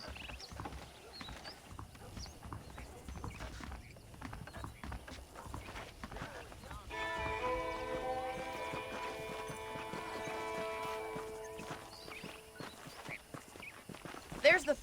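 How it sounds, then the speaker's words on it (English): Saddled horses in the Red Dead Redemption video game clip-clop at a steady walk, the hoofbeats soft and fairly distant, with a sustained musical tone joining partway through. "The horses are saddled up over here."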